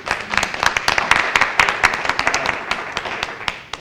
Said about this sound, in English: Let's give him a hand, please